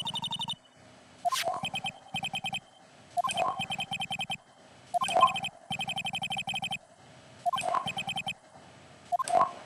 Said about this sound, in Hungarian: Nem kell más tenni, csupán, de felhívni Phoenix Wright számát.